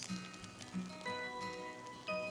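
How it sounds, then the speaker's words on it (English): Hail and rain falling outdoors, a dense patter of drops striking surfaces with scattered sharper ticks, some tonal ringing mixed in, steady and moderately loud with no speech. "Or at least if this hail lets up, I will"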